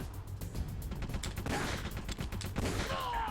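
Gunshots in Metal Gear Solid: The Twin Snakes, a run of sharp reports of moderate loudness over a low rumbling game backdrop.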